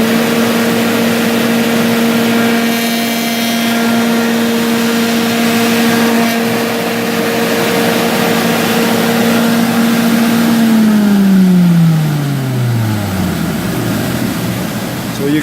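A multi-use edge radiusing machine trims a one-millimetre radius along a workpiece edge, giving a loud, steady motor whine that holds a constant pitch before spinning down and falling away near the end.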